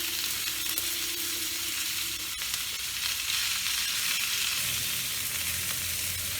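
Onion fries in oil that already holds cumin and dried chilli, giving a loud, even hiss and crackle throughout, with a single sharp knock near the middle and no one talking.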